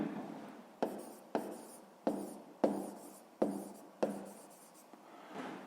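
Pen or chalk writing numbers during a sixth-grade math lesson: a series of about seven quiet, evenly spaced scratching strokes, each starting sharply and fading, close and alone.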